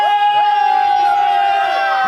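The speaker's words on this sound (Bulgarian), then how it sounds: "Аплодисменти!" A crowd at a lively outdoor celebration in Varbovka cheers and whoops loudly, a dense wall of many voices with a high sustained tone running through it.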